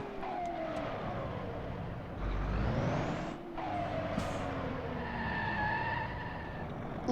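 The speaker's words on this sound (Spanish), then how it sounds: "Esas llantas están como que muy lisitas. Resbalan demasiado." Truck tires skidding and sliding on worn, slick tread in a mobile truck simulator game, a continuous screeching game engine and tire noise with rising and falling tonal sweeps, steady and fairly loud throughout.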